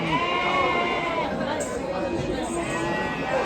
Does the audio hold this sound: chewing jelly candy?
no